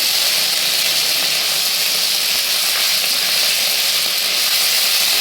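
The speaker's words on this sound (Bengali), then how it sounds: "আদা এইটা ততক্ষণ নাড়বো যতক্ষণ না আদার কাঁচা গন্ধটা কেটে যায়" Ginger frying and being stirred in a hot pan for a vegetarian chana dal, a steady loud sizzle with constant hiss and faint scraping, close and without voices.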